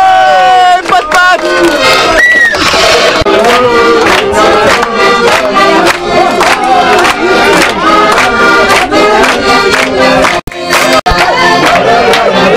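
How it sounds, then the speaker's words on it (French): Loud crowd at a Courchevel evening event cheering and calling out together, a dense continuous roar of voices with music-like tones running through it for the whole stretch. "Ce soir, vous pouvez applaudir"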